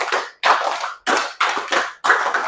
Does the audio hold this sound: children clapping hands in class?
yes